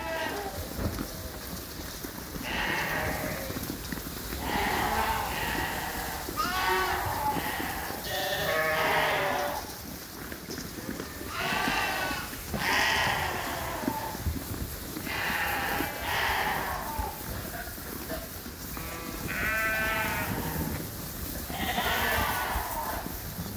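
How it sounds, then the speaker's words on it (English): Sheep bleat repeatedly at evening feeding time in a rain-soaked farm barn, several animals calling in overlapping bursts over a steady wet background hiss. "Feeding the sheep tonight here."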